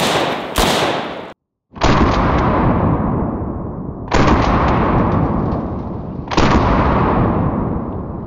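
An Arsenal AK rifle fires outdoors, giving a few loud, sharp cracks followed by three long booming shots that roll away into decaying echo, each a couple of seconds apart.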